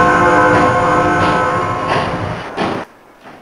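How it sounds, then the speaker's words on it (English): A train rolls along in the Bridge Construction Set video game, a loud steady rumble with tonal hum that holds for nearly three seconds, then drops away suddenly to near quiet. "And then you can be the driver of the train."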